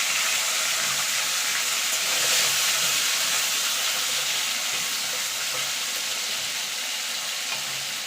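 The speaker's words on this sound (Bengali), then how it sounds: "আলু ফুলকপিটা ভেজে তুলে নেব।" Potatoes and cauliflower frying in hot oil give a loud, continuous sizzle with a bright hiss throughout and no voices.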